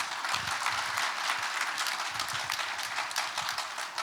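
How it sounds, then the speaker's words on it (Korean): Audience at a panel discussion on North Korean human rights clapping to welcome the speakers: a dense, steady round of applause from a fair-sized crowd, moderately loud and continuous throughout. "큰 박수로 환영해 주시죠."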